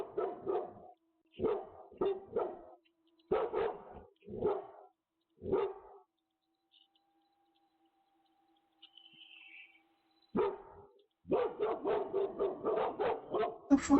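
A dog barks in repeated sharp bursts on home security camera audio, several clusters of barks separated by a quiet stretch with a faint high tone, then a fast run of loud barking at the end.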